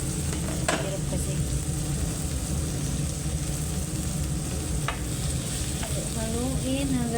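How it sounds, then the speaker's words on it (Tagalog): Tomatoes fry with a steady loud sizzle in a pan while a utensil stirs and mashes them, with occasional scraping and clinks over the continuous hiss. "Haluin hanggang sa madurog siya."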